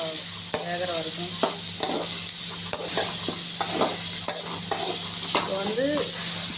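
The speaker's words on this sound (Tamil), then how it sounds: "தக்காளி நல்லா நசுக்கி விடுவோம், நல்லா வேகிற வரைக்கும்." Tomatoes are pressed and crushed into frying onions in a pan, with a steady sizzle broken by sharp spatula clicks and scrapes against the metal, plus a few faint squeaky tones in the background.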